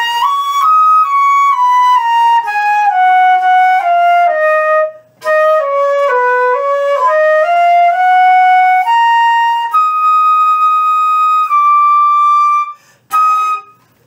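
Solo flute plays a piece from Pirates of the Caribbean, a clear, close melodic line of sustained and moving notes with two brief pauses, no talking.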